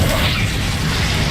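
A Confringo spell blast in the Hogwarts Legacy video game: one loud, dense, full-bodied burst that roars continuously for the whole moment, close and powerful with no talking.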